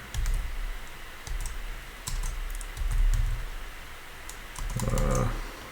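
Fingers typing code on a computer keyboard as a programmer writes a loop, with quick irregular clicks in short bursts separated by brief pauses, close and fairly quiet, with no voices.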